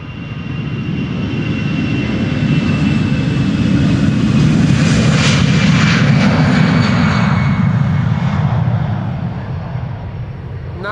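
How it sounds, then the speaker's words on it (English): An EasyJet airliner takes off from Amsterdam Schiphol Airport, its loud engine roar swelling over several seconds, holding strong, then easing off, with no one talking. "This is EasyJet to Belfast in Northern Ireland."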